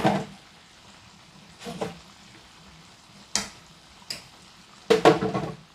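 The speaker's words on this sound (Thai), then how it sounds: "เราจะทอดไปจนสุกนะคะเหลืองกรอบ" Chicken, coated KFC-style, fries in hot oil over medium-low heat, with a soft sizzle and occasional clinks and stirring scrapes of a utensil against the pan.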